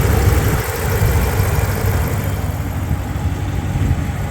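A steady, rumbling engine idles close by, a constant low throb with no breaks or voices, from a 2016 Ram 1500 5.7 Hemi truck with a broken timing chain.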